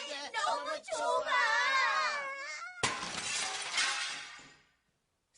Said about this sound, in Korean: 세상에, 그만 항아리가 깨졌어요.